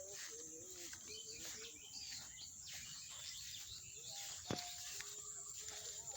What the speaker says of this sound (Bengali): সন্ধ্যাবেলা যেমন পাখি কিচিরমিচির ডাকে